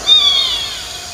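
A single high, drawn-out meow from a jungle cat kitten, loud and close, fading out over about a second with no other sounds around it.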